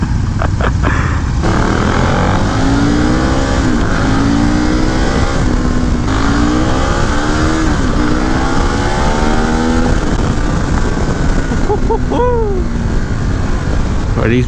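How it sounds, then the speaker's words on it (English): KTM Super Duke motorcycle engine revving, loud and close, a rising and falling engine note that sweeps up and down over constant road and wind roar. "that Super Duke sounds so mean"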